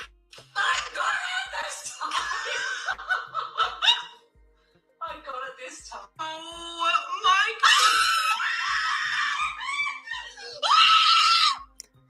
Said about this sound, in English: She's screaming and shit. You can hear her screaming in the background.